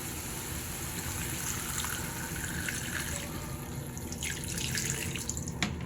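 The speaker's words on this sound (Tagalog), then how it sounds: "So lagyan na natin ng konting tubig." Hot water pours from a tap or container into a pot of chicken being cooked, a steady, fairly quiet splashing stream with a few brighter splashes near the end.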